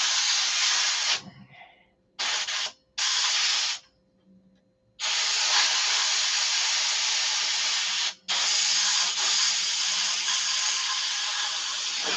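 A cheap Chinese-made paint spray gun hisses in loud, steady bursts close by, with short pauses between passes and a long continuous spray toward the end, no talking.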